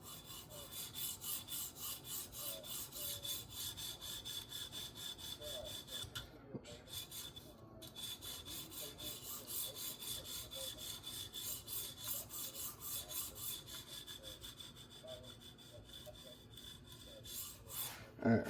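Steady back-and-forth rasping of a Leatherman Wave multitool blade drawn across TSPROF sharpening stones to refine the scratch pattern and remove the burr, soft and rhythmic over a faint background hum.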